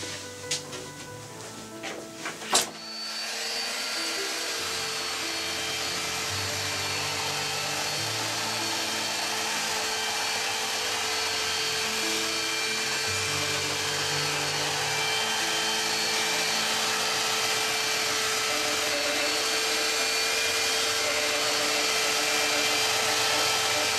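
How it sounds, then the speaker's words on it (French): Power sander working a veneer panel for a painting, a few handling knocks then a steady loud whining drone that holds for the rest of the time, with no voices. "On va poncer pour obtenir les transparences et les perspectives."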